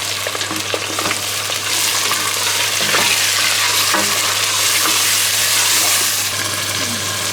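Passata and vegetables sizzle loudly and steadily in a pan during home meal prep, a dense continuous frying hiss broken by a few scraping stirs and light clatters.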